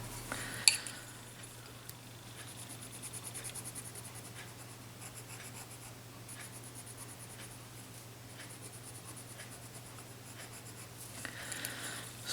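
Colored pencils scratching across paper while small triangles are colored in, a steady soft scraping with a constant low hum underneath and a few light taps.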